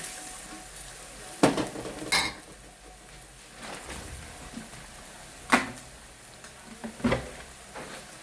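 Black pepper roasting in a hot pan with turmeric powder, a soft steady sizzle broken by several sharp scraping stirs of the spoon against the pan.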